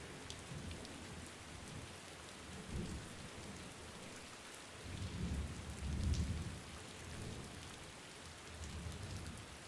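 Steady rain pours throughout, with deep thunder rumbling in low swells, loudest near the middle of the stretch and again toward the end; no voices.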